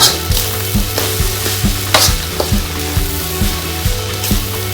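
Field rat stir-fried with holy basil in a pan: a loud, close, constant sizzle punctuated by regular, rhythmic clacks of a utensil striking the pan.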